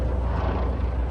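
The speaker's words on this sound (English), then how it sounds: "There's a frickin' plane again." A plane passing overhead at an outdoor expo, heard as a steady broadband roar throughout the short stretch with no distinct change.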